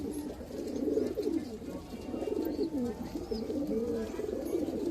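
Madras pigeons coo in low, rolling, overlapping calls, a continuous murmuring from several birds close by at a home loft, moderately soft with no talking.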